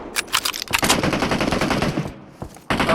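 Rapid bursts of automatic gunfire crackle loudly in a PUBG Mobile match, several sharp volleys firing in quick succession with brief gaps between them.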